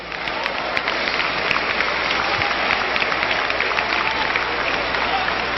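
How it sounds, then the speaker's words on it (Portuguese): A seated church congregation applauds in praise during a worship service, a steady wash of many hands clapping at moderate volume with no individual voices standing out. "tomem o seu assento, aplaudindo a Jesus"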